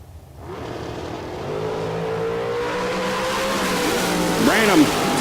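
Drag race cars rev and launch in a heads-up 492 bracket race at Texas Motorplex, with an engine roar building steadily to a loud surge near the end, over an announcer's voice.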